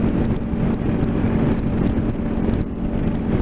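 Honda CRF300 Rally motorcycle engine holding a steady 6,000 revs at about 60 mph, a continuous low drone with a constant hum, close and loud, with light wind rush throughout.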